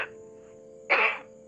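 A woman's single short cough during a phone call, close and brief, with a faint steady high tone in the background.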